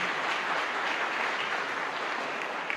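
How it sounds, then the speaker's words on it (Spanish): Congregation at a Catholic Mass in a chapel giving loud applause, dense sustained clapping filling the whole stretch with no talk over it. "Un fuerte aplauso."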